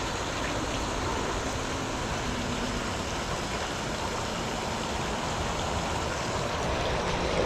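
Waterfall pouring over rocks at Lake Caroline, a steady, dense rushing roar that holds constant and close throughout, with no voices or breaks.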